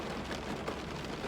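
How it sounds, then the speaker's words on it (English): Heavy rain pours down steadily outdoors, a loud, dense hiss with no pauses and no voices over it. "This rain is getting pretty loud"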